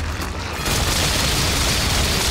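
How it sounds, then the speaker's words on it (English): A machine gun in Resident Evil 5 opens up after a brief lull, a continuous loud rattle of fire with booming impacts that holds steady to the end. "I'm gonna use the machine gun first."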